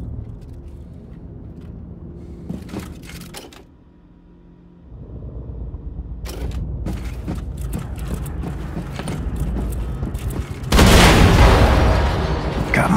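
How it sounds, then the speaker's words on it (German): Rumbling mechanical clatter and thuds in Wolfenstein II: The New Colossus build to a loud, sustained explosion burst in a hangar bay near the end, with game sound effects throughout. "Explosion in der Hangarbucht."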